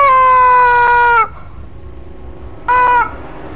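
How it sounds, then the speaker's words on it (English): A chicken squawks loudly and close in two long, harsh cries with a short pause between them. "It's a chicken!"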